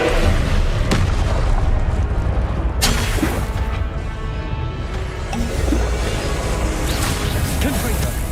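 Fire spells burst and boom in Hogwarts Legacy combat, heavy blasts and whooshes going off repeatedly amid game noise while a player talks over the action.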